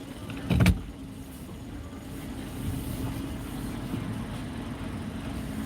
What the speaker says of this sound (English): I think that's the 2020 Camry right there